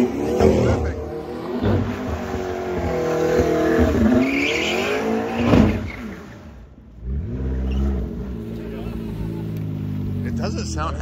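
Car doing donuts with tires squealing, the engine revving and wailing while rubber screeches in long sweeps, loud and close, with voices talking over it.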